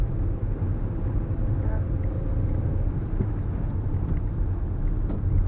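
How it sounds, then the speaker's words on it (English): A car engine runs steadily during a driving lesson, a low, even rumble heard from inside the cabin with no breaks or rev changes, faint voices in the background. "What's the engine sounding like?"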